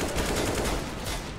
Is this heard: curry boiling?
no